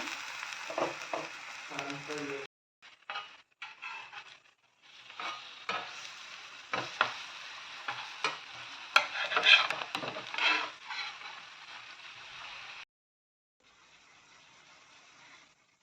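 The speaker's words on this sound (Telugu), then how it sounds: "ఇప్పుడు వీటిని ఆయిల్లో ఫ్రై చేసుకుందాం." Hara bhara kebabs fry in oil as an evening snack, with a faint sizzle under repeated scraping and turning sounds from a utensil in the pan, quiet and close, broken by short pauses.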